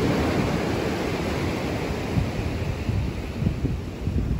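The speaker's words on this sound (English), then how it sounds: "The sound of those waves crashing up on the shore." Ocean waves crash and wash up on a shoreline in a steady, broad roar with slight surges, loud and continuous with wind noise across the microphone and no talking.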